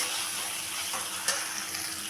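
Potatoes and pointed gourd dropped into turmeric-spiced oil in a pan for a home-style vegetarian curry, giving a steady, close, even sizzle with a brief clink midway.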